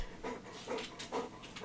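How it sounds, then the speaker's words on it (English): A puppy panting close by, quick rhythmic breathy huffs repeating several times, soft and low in level. "Sorry if you hear the panting. I have a puppy right here who's wanting my attention."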